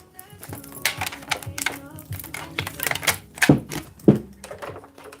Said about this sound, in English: Let's just grab some cards in this bitch.